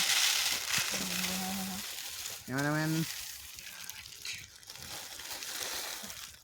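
Onion leaf pakoras fry in hot oil with a steady, close sizzle that runs the whole time, while voices briefly talk over it.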